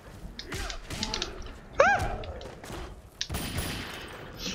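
Gunfire in the fighting game Mortal Kombat 9 comes as a scattered series of sharp shots and thuds, along with whooshing effects and a brief rising electronic tone, all moderately loud.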